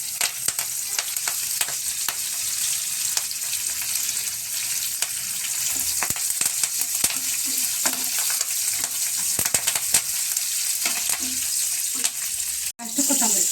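Curry leaves crackle and spit in hot oil for poha chivda, a dense, steady frying hiss scattered with sharp pops and a few stirring scrapes, and no one speaks.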